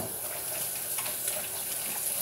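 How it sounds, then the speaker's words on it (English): Running tap water splashes steadily over hands being washed at a kitchen sink, a continuous close hiss with small fluctuations. "I'm gonna wash my hands again."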